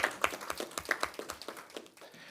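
Scattered clapping at a quarterly government press conference, a few sets of hands tapping out uneven, fairly quiet claps at a moderate distance rather than a full ovation.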